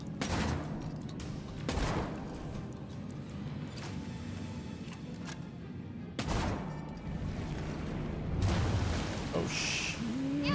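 Repeated shotgun blasts in the horror game Tormented Souls II, loud booming shots spaced a few seconds apart with rumbling tails, standing alone without talk.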